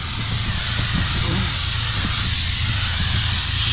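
A steady, loud hiss of air escapes without pause from a blown-out gasket on a manure trailer, with no speech.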